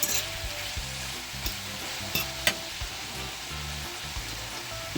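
Ackee sizzles loudly in a pan with saltfish, a constant frying crackle broken by scattered clinks and scrapes of stirring close by. No one speaks.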